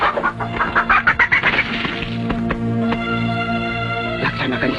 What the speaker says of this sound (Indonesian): sekarang kita coba dengan ayam ini